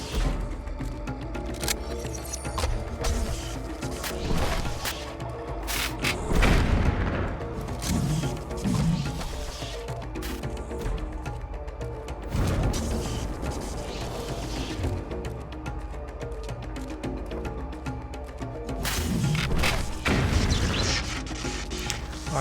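A boss launching missiles in the action game Children of Morta, with repeated booms, cracks and crashing impacts at irregular intervals over dense game music and effects, loud and busy.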